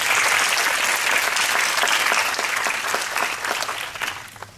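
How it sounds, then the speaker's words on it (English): A hall full of delegates applauding at a medical conference opening, loud and dense at first, then gradually thinning and tapering toward the end. "Can we also have a round of applause for them"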